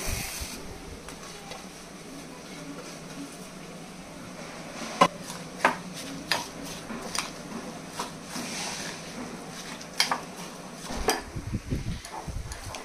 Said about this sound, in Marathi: आता आपल्याला याच्यामध्ये हा कांदा मिक्स करून घ्यायचा आहे.